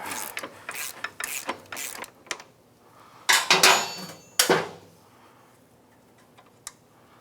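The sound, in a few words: ratchet wrench tightening Can-Am Outlander ATV axle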